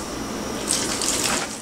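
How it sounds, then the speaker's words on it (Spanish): Water is poured in small amounts into gordita dough, a steady soft splashing hiss that swells slightly midway, with no voices. "Y le agregamos agua también en pequeñas cantidades."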